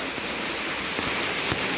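Heavy monsoon rain pours steadily during a power blackout, with streets flooded and waterlogged outside; a dense, continuous hiss of downpour fills the whole stretch, with no voices.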